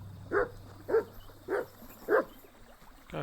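Mutz the dog in Kingdom Come: Deliverance II gives four evenly spaced, moderately loud barks over quiet outdoor ambience.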